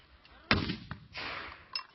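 A single sharp, booming shot from a shoulder-fired grenade launcher during military training, followed by a rumbling echo and a few fainter thuds, heard from a short distance outdoors.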